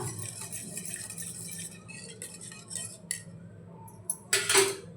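A spoon stirs soaked sabja seeds into raw mango panna in a vessel, making soft clinks and scrapes against the sides and ending with a brighter metallic clink.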